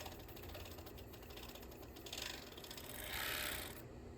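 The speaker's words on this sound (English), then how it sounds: "So go ahead and just lift up your foot, put it down, and sew." A serger stitches knit fabric for a women's T-shirt. It gives a quiet, steady mechanical whir with a fast clicking rhythm that swells slightly toward the end, and no one speaks.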